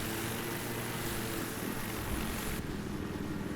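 Helicopter in the console game Battlefield 3, a steady whirring rotor and engine drone held at an even level for several seconds, with no one talking over it.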